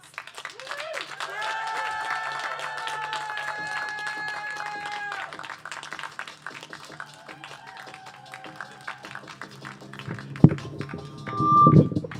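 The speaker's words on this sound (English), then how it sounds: "keep that round of applause going for every single person who touched this stage" Steady crowd applause fills a poetry night venue, continuous clapping with a few whoops and a sustained tone briefly heard over it, swelling louder near the end.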